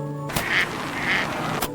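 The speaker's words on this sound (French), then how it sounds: "Ça c'est des canards." Ducks quack twice from a played-back sound clip, two short nasal calls about half a second apart, between brief bursts of noise.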